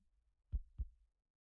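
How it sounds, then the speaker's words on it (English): A weakening heartbeat from the Arknights video game, two deep muffled thumps close together, with silence settling in afterward. "the heartbeat begins to weaken until all is silent"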